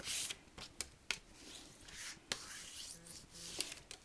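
Paper is folded corner to corner while making an origami basket box, with crisp rustles, sharp creasing taps and soft rubbing close up and quiet, no talk heard.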